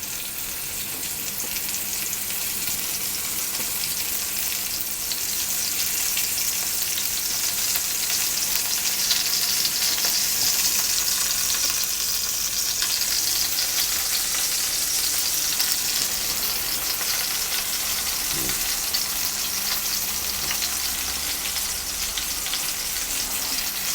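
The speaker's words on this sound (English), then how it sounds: "So I'm going to sear the sides as well as best as I can." Veal shanks for osso buco sear in a hot pan, two at a time, giving a steady, loud, continuous sizzle and fry that runs unbroken throughout with no talking.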